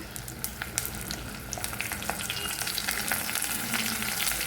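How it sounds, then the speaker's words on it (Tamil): Ground masala paste fries in hot oil with vegetables for a vegetable-and-dried-vatral kuzhambu, giving a dense, continuous crackling sizzle dotted with sharp pops and occasional stirring, close and steady throughout. "ஸோ நம்ம இந்த எண்ணெயில் இப்போ லைட்டாக வறுத்துக்கலாம்."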